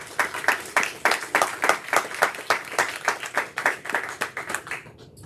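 A church congregation claps during a Sunday service, rhythmic unison clapping in a steady beat of roughly three claps per second, moderately loud in a reverberant room, stopping near the end.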